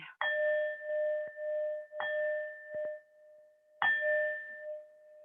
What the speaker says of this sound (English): we always do the gong 3 times